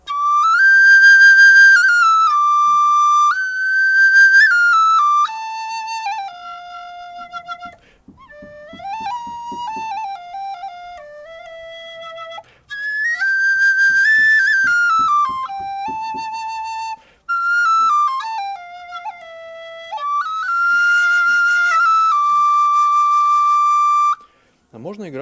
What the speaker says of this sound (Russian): То есть можно играть как отдельно на флейте, тогда это получается сродни ирландскому вистлу.